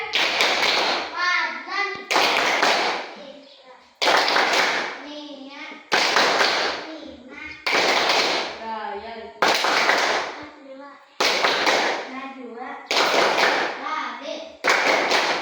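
A group of schoolchildren chant an attendance clapping chant in unison with regular bursts of hand clapping, a rhythmic call-and-clap pattern repeating about every two seconds.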